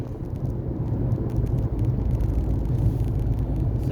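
Several cars speed past on a Jamaican road between Kingston and St. Thomas, where the limit is 50 km/h. Steady loud engine and tyre rumble runs throughout, close and continuous, with no talking.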